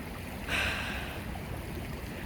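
The Liangshui River flows in a steady, broad rushing wash, with a brief louder splash or gust near the start and no voices.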